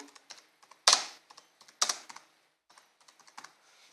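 Fingers typing a search into Google on a computer keyboard, close and clear: irregular key clicks with a couple of louder, heavier key strikes mixed among lighter taps.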